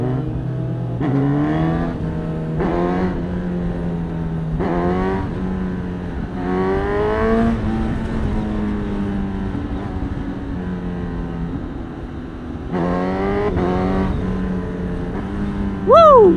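A Honda CB1000 Hornet SP motorcycle engine drones steadily, revving up repeatedly in rising sweeps as gears shift via quick shifter, with a sharp rev near the end.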